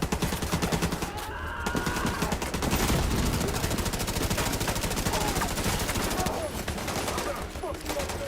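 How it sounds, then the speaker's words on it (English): Rapid video-game gunfire rattles in dense automatic bursts against enemies, loud and continuous, with brief gaps between volleys. "As I shoot enemies right from behind you."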